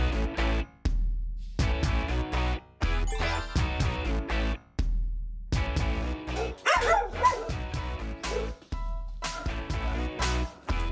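Several dogs at an animal shelter bark loudly and repeatedly in bursts, with yips and whimpers between, close by and without talk.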